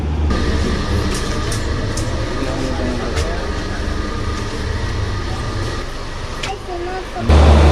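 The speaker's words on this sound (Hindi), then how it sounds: "गोंडवाना एक्सप्रेस जो लगी हुई थी रवाना हो चुकी है" The Gondwana Express pulling out of an Indian railway station: a continuous low rumble of rolling wagons with faint rail clicks, fairly loud and steady throughout, with a voice over it.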